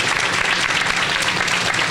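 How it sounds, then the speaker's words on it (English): Steady, full applause from a crowd at a post office dedication ceremony in Jersey City, a continuous wash of many hands clapping at even loudness throughout. "If we could give them a round of applause."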